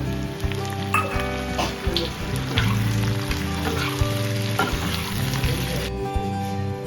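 Chopped onion and capsicum fry in a pan with garlic, a constant close crackling sizzle throughout, punctuated by occasional spatula scrapes and stirring knocks, with no talking.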